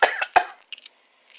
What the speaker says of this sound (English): I'm going to see if I can fake a cough